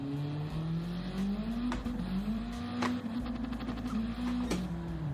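Car engine in the video game The Crew Motorfest, driven with a gear shifter, revving and climbing in pitch with audible gear shifts and brief dips, holding a steady, close drone throughout.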